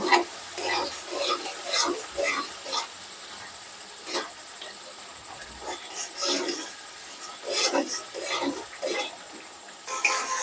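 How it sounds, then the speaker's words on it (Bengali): Ground spices for a Katla fish curry are stirred and fried in oil in a pan, giving repeated scraping strokes over a soft sizzle, close and fairly loud, with no talk. "এবার আমি সমস্ত মশলাগুলোকে ভালো করে কষে নেব।"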